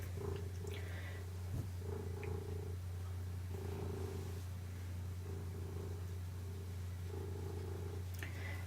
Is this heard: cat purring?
yes